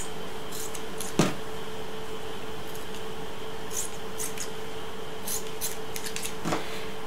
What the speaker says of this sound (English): we clip the corners.